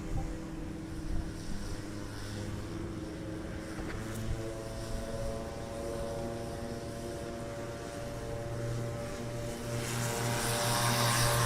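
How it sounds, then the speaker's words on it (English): A supercharged Rotax 912 engine on a STOL aircraft at a Pony Express STOL competition, droning steadily and building louder toward the end as it powers into takeoff. "We'll hear that 912 that's supercharged go underway"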